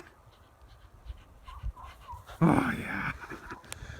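A dog running through deep snow pants in quick, close bursts, with a louder rush of movement and snow partway through; a person briefly speaks over it.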